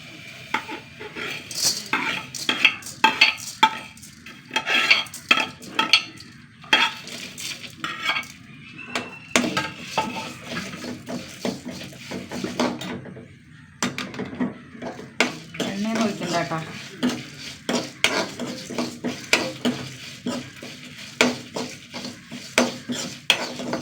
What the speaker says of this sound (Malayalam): പുളിങ്കറിക്ക് വേണ്ട കുറച്ച് സാധനങ്ങൾ വറുത്തെടുക്കാനുണ്ട്